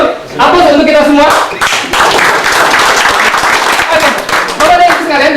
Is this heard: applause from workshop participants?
yes